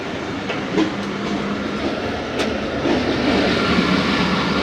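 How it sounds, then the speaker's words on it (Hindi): Jaffar Express passenger train arriving at a station in Pakistan, a loud steady rumble of rolling wagons with clacking wheels throughout. "टाउन में शायद फॉल डाउन जाफर एक्सप्रेस का अराइवल हो रहा है।"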